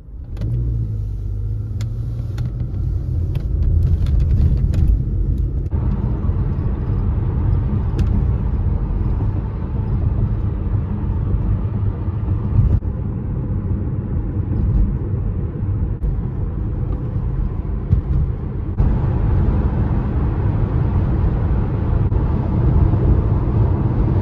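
Steady interior road noise from a car driving toward Arlington Heights, a continuous low engine and tire rumble that holds loud and even with slight shifts as it travels.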